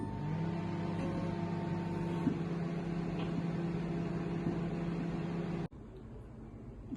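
An LG Wi-Fi microwave oven starts running with a steady, close electrical hum and whirring fan drone that holds evenly for several seconds, then cuts off abruptly near the end.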